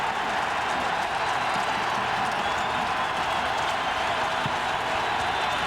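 A huge stadium crowd roars continuously at a 1998 Tennessee vs Alabama college football game, a dense, steady wash of cheering heard from within the stands.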